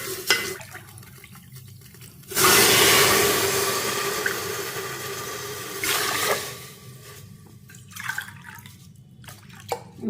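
Two and a half cups of water pour into a cooking pot of sautéed crushed garlic while making black urad dal rice, a steady rushing splash of several seconds, fairly loud and close, with no talking.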